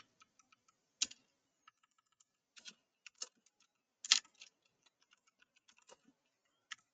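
Fingers tap out a short HTML heading tag on a computer keyboard, a quiet, close series of irregular clicks with a few firmer keystrokes standing out.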